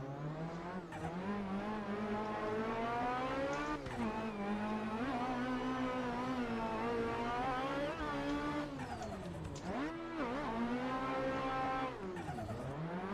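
A drift car's engine in a modded racing game drones loudly and steadily, its revs rising and dipping as it whines through slides with no pauses.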